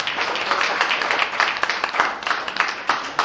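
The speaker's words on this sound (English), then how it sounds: "Can we give him a round of applause?" Audience applause at a book launch, dense sustained clapping from a crowd, loud and close, running throughout without break.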